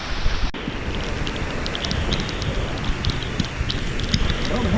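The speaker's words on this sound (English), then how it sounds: "It's raining, I don't care." Steady outdoor rain with wind, a dense broadband hiss with scattered drop impacts that stays constant and fairly loud throughout, with a faint voice underneath at times.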